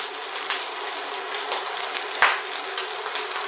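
Hanger steak sears in a hot cast iron pan, giving a steady close sizzle with faint scrapes and one sharp clink partway through, no voices.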